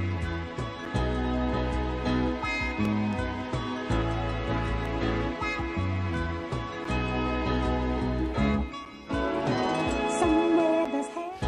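Soul music sample pitched up two half steps in Ableton Live plays continuously and steadily loud, with full bass and sustained harmonic layers, no talking.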